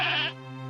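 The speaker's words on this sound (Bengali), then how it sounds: "ছাগলটার পা ভেঙে যায়" A young goat lets out one loud, close, strained bleat after its leg is broken when its rope is yanked, the cry cutting off abruptly into a lingering tone.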